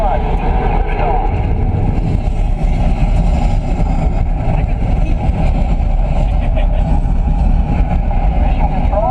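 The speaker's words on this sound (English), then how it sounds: "You are go for launch. We have main engine start." Simulated rocket engines roar in a steady, loud, dense rumble during the launch sequence of Epcot's Mission: Space ride, with voices talking over the continuous thunder.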